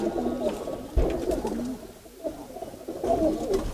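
Giribaz pigeons cooing close by in soft, repeated throaty calls, with a brief knock partway through.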